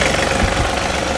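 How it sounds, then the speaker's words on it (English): A John Deere 3038e compact tractor engine runs at a steady, loud idle close by, with a constant low rumble and slight knocking vibration. "Let me start it up again and show you."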